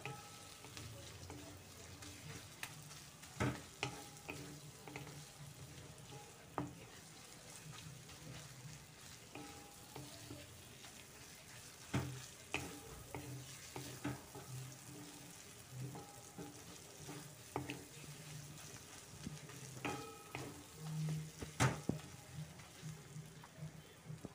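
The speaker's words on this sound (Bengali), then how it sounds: "কাজু পোস্ত বাটা দেবার পরে 1 থেকে 2 মিনিটের মতো আবারও নেড়ে নেব।" Chicken with cashew poppy seed paste fries softly in a pan over low flame, a faint steady sizzle broken by scattered scraping and clinking taps of a stirring utensil, with no talking.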